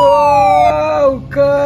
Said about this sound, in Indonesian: ada mobil pemadam kebakaran berwarna hijau